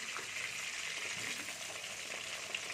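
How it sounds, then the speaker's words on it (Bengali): Eggplant pieces fry in hot oil with a steady, close sizzle and bubbling crackle that holds evenly throughout, left over from browning potatoes for a fish dish with peas and eggplant. "এই তেলের মধ্যে আমি বেগুনগুলো দিয়ে দিচ্ছি"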